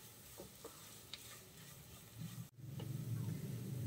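Samosa meat filling stirred and frying in a pan with meat masala, a quiet close sizzle with scraping spoon strokes that swells louder in the second half.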